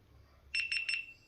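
A GoPro Hero 10 Black camera that will not power on after an update gives three quick, shrill electronic beeps in a row, close and clear over near silence.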